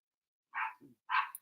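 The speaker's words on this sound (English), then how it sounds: "the dog's barking in the background" A pet dog named Bailey barks twice at a neighbour, a sharp yap followed by a softer low grumble and then a second bark, distant and faint in an otherwise quiet room.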